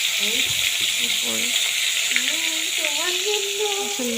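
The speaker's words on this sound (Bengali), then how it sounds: "তেল গরম করে মাছ দিয়ে নিলাম অল্প করে ভেজে নেব" Pieces of koi fish fry in hot oil in a wok, giving a continuous bright sizzle with occasional crackles while a voice talks over it.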